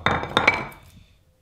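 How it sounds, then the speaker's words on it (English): A few sharp hammer taps on a carbon fiber cleat held in a mold as it is knocked loose, three quick close knocks with a hard, slightly ringing clink that fades quickly. "Hammering to undo this"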